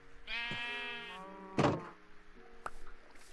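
A red sheep in the Minecraft video game gives one long, clear bleat, then a single thunk, and a short second bleat follows, with no one talking.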